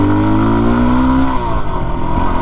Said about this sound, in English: it's a dual sport with a pretty nice engine